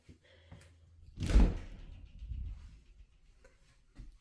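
A lightweight builder-grade glass door on a walk-in shower in a bathroom swings shut with a single soft thunk and a brief rattle, fairly close and alone in a quiet room.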